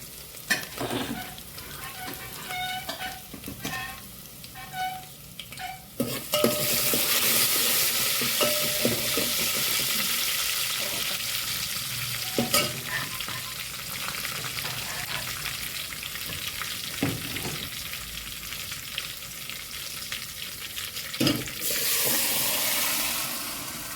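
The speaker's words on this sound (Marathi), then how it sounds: "लसूण अद्रक पेस्ट, कढीपत्ता, जिरे मोहरी टाकले आहे आपण सांबार बनवण्यासाठी, आणि हिंग टाकला आहे" Garlic ginger paste, curry leaves, cumin, mustard seeds and asafoetida hit hot oil for sambar, first with faint crackles and clinks, then breaking into a loud, steady sizzle that hisses on with occasional spoon stirs.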